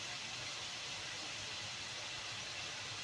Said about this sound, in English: Now, stir frying nicely, look, for the bean sprouts.